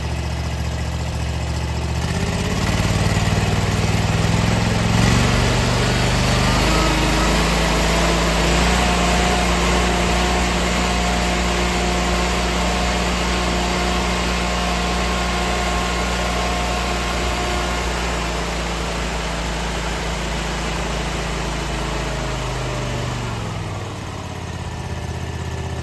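A lawn mower engine runs steadily and loudly, with its throttle raised to high RPM, giving a sustained mechanical drone with no talking over it.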